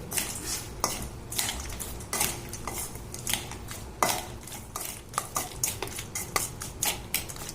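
A spoon clinks and scrapes against a bowl as an anchovy salad seasoned with soy sauce is mixed, giving irregular sharp metallic taps and scrapes over several seconds with no talking.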